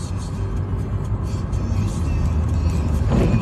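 A lorry passes on a windy road at night, a steady broad road roar swelling toward the end, heard from inside a moving vehicle with a voice talking over it.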